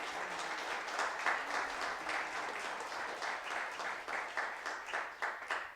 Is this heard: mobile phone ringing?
no